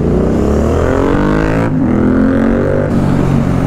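A modified BMW 310 R motorcycle engine revs steadily with rich harmonic rumble, pitch rising and falling, close and continuous throughout.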